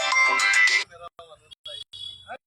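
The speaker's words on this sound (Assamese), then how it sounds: "কোনোবা এজনে ফোন মাৰি আছে ফোন ৰিচিভ নকৰো আমি" A phone ringtone for an incoming call chimes loudly at night in an Assam village during a wild elephant watch, then cuts off into sparse clicks, a faint voice and quiet background noise.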